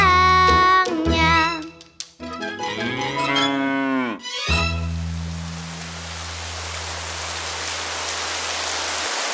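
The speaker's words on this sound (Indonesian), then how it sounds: "Kini 5 ekor sapi ada di kandangnya." Cows mooing in a children's song setting: a few drawn-out moos early on, then a steady rain-like hiss with a low hum.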